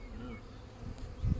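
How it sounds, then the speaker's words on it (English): Honey bees swarm around beehives, a steady near buzzing drone with a few louder passes near the mic, ending in a brief low thump. "Not short of a few bees, are you?"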